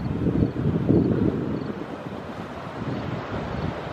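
Ocean swells break at a point over a mussel bed, a steady broad roar of surf mixed with gusting wind buffeting the microphone, with no talking.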